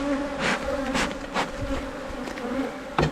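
Honeybees buzzing around an open hive during a spring honey harvest: a steady close drone with swelling passes as bees fly near, continuous over a few seconds.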